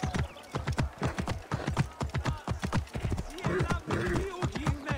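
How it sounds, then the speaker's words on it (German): A horse-drawn chariot in Assassin's Creed Origins clatters past with rapid, close hoofbeats and rolling wheels, a horse whinnying near the end while a voice speaks over it. "Ein Philaketai in einem Streitwagen."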